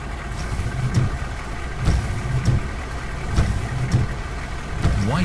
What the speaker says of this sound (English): here is a lifeguard pickup truck.